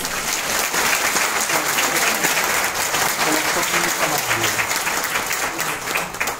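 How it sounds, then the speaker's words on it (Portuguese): An audience at a Sorocaba Commercial Association business breakfast bursts into steady, dense applause, loud and sustained for the whole stretch with no talk over it. "Vamos recebê-lo com uma salva de palmas."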